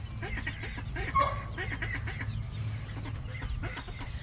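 Chickens in a backyard coop cluck softly and steadily against a low rumbling background, with one brief louder squawk standing out, and a duck-and-chick flock nearby.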